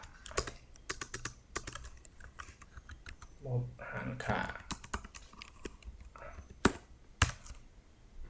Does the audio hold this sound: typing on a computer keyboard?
yes